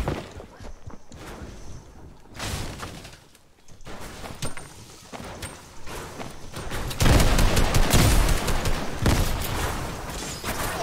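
Gunfire in the Fortnite video game: loud bursts of rapid shots and broadband blasts come and go through the stretch, growing denser and heavier toward the end, with no talking.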